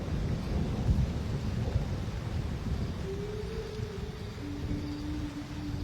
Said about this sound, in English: and it starts to rain in Ndutu.